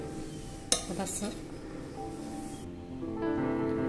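Utensils clinking against dishes as vegetable biryani is served, with a sharp clatter followed by a few lighter clinks and scrapes, and a faint voice in the background.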